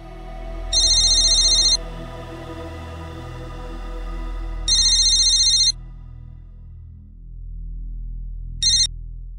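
A phone ringtone chirps in three bursts, two long ones and then a short one, with pauses between them. It sounds over a low background hum, and no one speaks.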